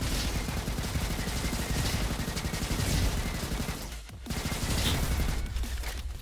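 Rapid automatic gunfire from a tommy gun in the shooter game Roboquest, loud continuous bursts rattling almost without pause, broken by one brief gap before the firing resumes.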